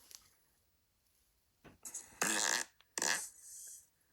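A fart during a sports talk show, a short squeaky burst followed by a second longer one, close and loud against near silence.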